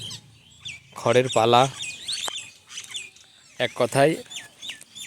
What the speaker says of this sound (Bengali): শালিক পাখির ডাক